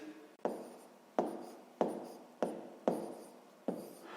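Pen or pencil writing out a division calculation for a sixth-grade maths exercise, six distinct scratchy strokes in a steady rhythm, close and fairly quiet, with no talking.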